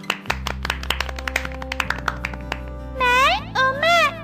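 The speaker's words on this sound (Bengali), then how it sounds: "ছানারা, সবাই টুকির জন্য হাততালি দাও" Cartoon children clap for a competition winner, a run of sharp, quick claps at close range, followed by bright sweeping cartoon tones and voices.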